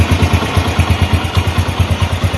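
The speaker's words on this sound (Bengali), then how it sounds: "ইঞ্জিন কিন্তু রানিং অবস্থায় আছে স্টার্ট অবস্থায় আছে ইঞ্জিন দেখতে পাচ্ছেন ইঞ্জিনের সাউন্ড কোনো ধরনের বাজে সাউন্ড নাই" A Runner Bullet motorcycle engine runs close by in a steady, rhythmic idle-like thump with a faint mechanical clatter, heard alone without talk.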